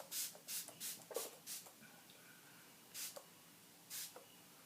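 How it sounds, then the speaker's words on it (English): Makeup setting spray is misted onto a face in a series of short, soft hissing bursts, about six quick pumps in a row and then two more after a pause, faint and close, with no talking. "So you want to spray your face, holding it from you just a little bit"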